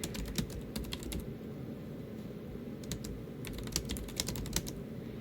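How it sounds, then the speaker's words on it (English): Fingers tap out a sentence on a computer keyboard in quick, irregular bursts of crisp clicks, a short pause in the middle, then more rapid keystrokes, close and clear over a low background hum. "I'm gonna finish typing my sentence here"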